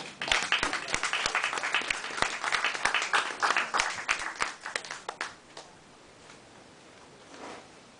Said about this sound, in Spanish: Un aplauso para Juano